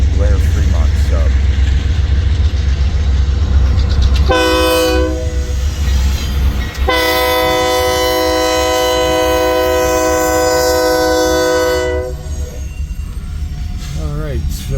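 An eastbound Union Pacific freight train passes with a loud rumble, sounding its horn in a short blast and then a long sustained blast, with a voice talking over it.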